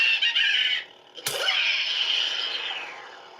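Star Wars scream saber toy letting out a loud, shrill electronic scream that cuts off, then a sharp whoosh and another long wailing scream that slowly fades.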